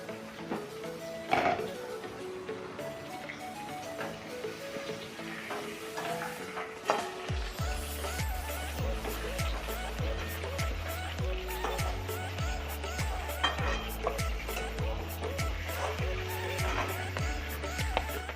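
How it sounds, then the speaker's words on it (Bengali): Aar fish fries in hot oil in a pan with a steady, moderate sizzle and occasional clinks, later partly covered by background music with a deep rhythmic beat. No one speaks. "মাছটা আমার ভাজা হয়ে গেছে"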